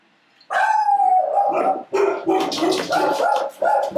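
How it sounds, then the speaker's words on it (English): Several excited pet dogs bark and howl loudly and close by in a home kitchen, starting with a long rising howl and then breaking into a steady run of overlapping barks and yips with no talk. "There are my puppies. They're excited about something."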